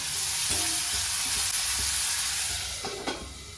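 Steady sizzling of tomatoes sautéing in a covered pan for egg gravy, a continuous hiss with a few faint clinks, no voices.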